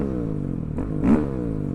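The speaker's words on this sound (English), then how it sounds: "I'm on a supermoto. And this thing just rips." A supermoto motorcycle engine revs hard and accelerates, heard as a loud, rising mechanical roar with a sharper surge partway through.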